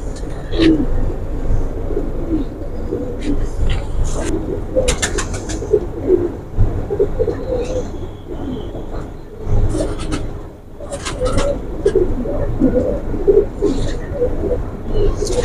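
A flock of pigeons coos steadily close by, with occasional bursts of wing flapping and brief higher chirps.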